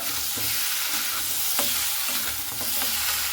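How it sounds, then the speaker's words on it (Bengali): Fish heads frying in oil and spices, stirred with a spatula: dense close sizzle with rhythmic scraping strokes and low rumbling from the pan. "মাছের মাথাটা দিয়ে এইভাবে খুব ভালো মতো করে আবারও মশলার সঙ্গে নাড়াচাড়া করে নিতে হবে"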